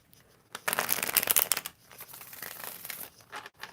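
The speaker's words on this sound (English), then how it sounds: "One more shuffle here." Tarot cards being shuffled up close, a burst of papery riffling and crinkling lasting about a second, followed by softer rustling and handling, with no talk.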